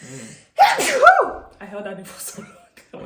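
A single sharp human sneeze bursts out indoors, followed by someone talking and a brief reply.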